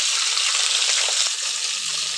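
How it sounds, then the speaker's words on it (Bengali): Vegetable stalks tipped into the hot oil left from frying potatoes sizzle steadily and close, a dense crackling hiss that carries on throughout with a slight dip partway, and no voices. "আলু ভাজা নামিয়ে নিয়ে যে তেলটা ছিল সেই তেলেই আমি ডাঁটাগুলো দিয়ে দেব।"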